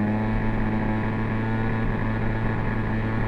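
An Aprilia SR50 scooter engine sputters at about half throttle around 6,000 rpm, a close, steady, buzzing drone with a slight uneven flutter.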